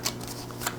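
Tarot cards are shuffled close by in two quick papery riffles, heard alone with no voices.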